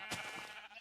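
A Minecraft sheep, one of a flock dyed every color, gives a short single bleat with soft game ambience, brief and fairly quiet.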